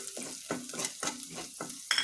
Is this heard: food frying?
yes